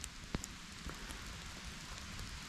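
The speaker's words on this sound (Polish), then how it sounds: "Jak widzimy, znowu zaczyna padać." Light rain pattering on a forest floor during a mushroom hunt, a soft steady hiss with a few sharper drops near the start, faint and without voices.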